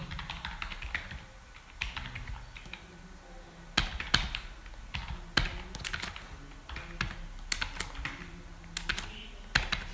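A card number typed on a computer keyboard, a steady run of close, crisp key taps with irregular rhythm and a few sharper strokes, heard alone without talk.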